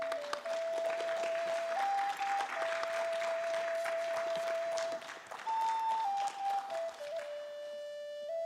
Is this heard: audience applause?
yes